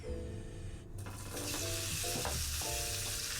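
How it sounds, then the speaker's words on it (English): Meat browns in about a tablespoon of hot olive oil in a frying pan, a steady close sizzle that swells louder after a brief dip, with faint stirring scrapes through it. "Now I've got about a tablespoonful of olive oil in the frying pan, and we're going to brown the meat off."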